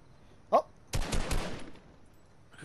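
Bursts of gunfire in a Fortnite match: one short sharp crack, then a dense rapid volley lasting under a second, followed by a faint later shot, with no talk.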